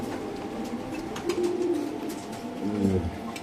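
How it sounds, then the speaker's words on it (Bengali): Racer pigeons from the Netherlands cooing nearby, two or three rolling throaty coos rising and falling over a steady low background hum. "আচ্ছা নেদারল্যান্ডের 3টা কবুতর আছে"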